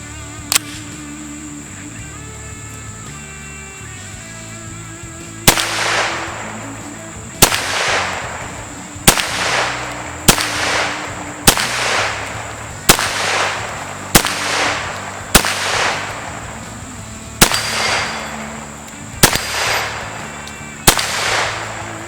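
An Extar EP9 pistol fires Winchester 9mm NATO-spec ammunition at a 25-yard range, a slow series of about ten sharp, loud cracks spaced a second or two apart, each with a brief ringing tail.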